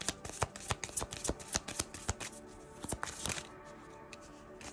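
Rapid riffling of a deck of cards, several quick bursts of crisp flutters and taps close by, with short pauses between shuffles.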